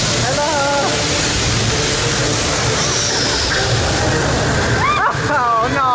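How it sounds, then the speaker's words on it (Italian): Water rushing and splashing over riders on a Jumanji-themed amusement park ride at Gardaland, a loud continuous roar of spray close by, with excited voices shouting and squealing over it. "L'acqua in faccia, aiuto!"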